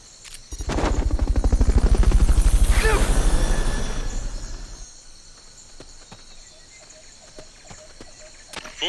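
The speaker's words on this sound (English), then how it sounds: "Fulton recovery subject confirmed onboard helicopter." A helicopter in Metal Gear Solid Peace Walker HD thumps loudly with rapid rotor beats that swell and then fade away over a few seconds, leaving a quieter hum.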